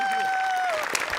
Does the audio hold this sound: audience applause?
yes